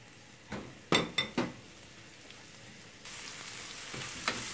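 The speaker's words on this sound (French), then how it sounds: "Je verse ensuite mes oignons." Chopped onions tip into about two tablespoons of hot oil in a frying pan for a bolognese sauce, starting with a few clinks and splashes before a loud, steady sizzle takes over and keeps going.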